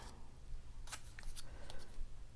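Scissors snip through a stamped greeting card at a craft table, a few quiet, crisp cuts in an uneven rhythm, close and faint.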